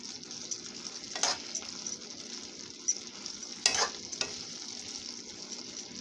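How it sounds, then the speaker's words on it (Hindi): Boondi for motichoor ladoo is stirred with dry fruits in a pan, giving faint, scattered scraping strokes over a soft, steady hiss, close and quiet. "अब इन सबको भी मिक्स कर लेते हैं अच्छी तरह से।"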